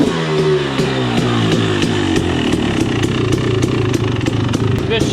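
A 2019 KTM 250XC two-stroke dirt bike, set up as a hard enduro build and running poorly, idles loudly and close by with a steady rattling drone and a rhythmic clatter throughout.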